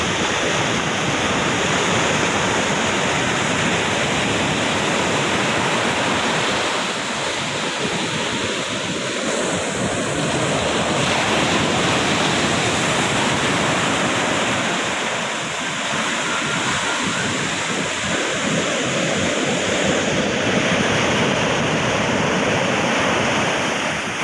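Rough sea surf rolls and crashes continuously along a shore, a loud broadband roar with swelling surges and wind buffeting the microphone, no talking.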